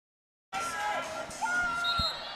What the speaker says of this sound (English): We have a big crowd tonight